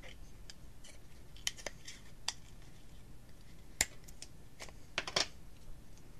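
Scissors cut along a seam in rolled paper, making a string of crisp, irregular snips and clicks, close and fairly quiet against a soft background hiss, with no talking.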